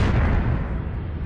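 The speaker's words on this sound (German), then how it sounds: "wenn ein Stern stirbt und explodiert" A deep booming explosion of a dying star rumbles heavily at first, then decays into a fading low roar.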